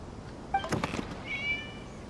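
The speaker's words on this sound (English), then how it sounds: "just a cat" A single cat meow in a video game with a bright, tonal quality, followed by a softer drawn-out mewing tone, with a faint background hum.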